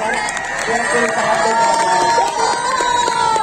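A large crowd at an Urdu comic poetry gathering cheers and shouts continuously, with raised voices and whoops blending into a loud, sustained roar; distinct clapping is hard to pick out.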